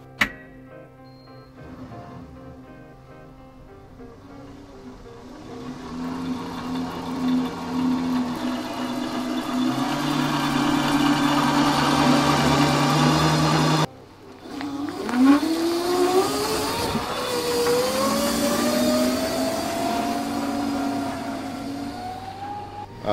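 Electric-converted Toyota Stout truck driving, its motor whine rising and falling in pitch through gear-reduction sweeps, building steadily, cutting off briefly, then climbing again, with mechanical ticking underneath.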